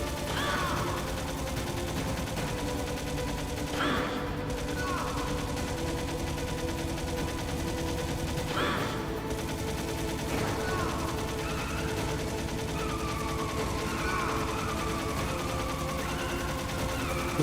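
Metal Gear Solid game gunfire: a few sharp shots at intervals punctuate a steady, droning in-game background with tonal effects, while someone talks over it.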